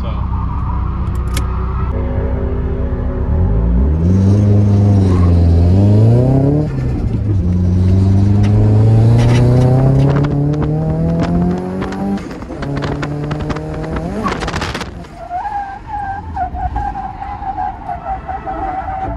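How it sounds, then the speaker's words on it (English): A drift car fitted with a short shifter revs hard and loud up close, its engine pitch climbing and dropping through repeated sweeps as it downshifts into second gear, ending in a sharp burst before settling lower. "So I want to get more comfortable in third gear, especially downshifting into second."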